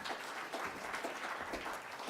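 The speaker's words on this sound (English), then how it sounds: "So a round of applause for Anthony" Audience applause for a speaker at a hydrogen economy science diplomacy event, a steady, moderate clatter of many hands clapping throughout, fairly soft and even with no talk over it.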